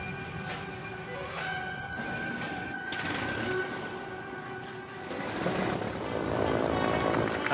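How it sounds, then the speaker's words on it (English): Propeller airplanes fly overhead above a golf course at a Ryder Cup, their broad droning roar swelling and fading as they pass, with a distant crowd murmur beneath. "Paddy Power got a bunch of airplanes."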